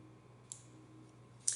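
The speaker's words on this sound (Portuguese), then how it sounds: "Clique em salvar." Mouse clicking a save button on a computer, two faint sharp clicks about a second apart against a quiet hum.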